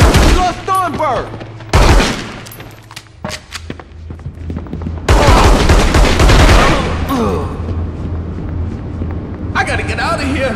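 Gunfire in the Reservoir Dogs PS2 video game: loud bursts of shots and rapid volleys with heavy thuds, broken by short pauses and mixed with shouting voices throughout.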